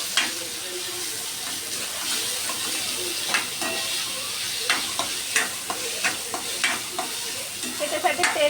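Chopped onions and tomatoes fry in oil in a home kitchen pan, giving a steady sizzle with intermittent scraping and stirring clicks from a utensil, close and continuous.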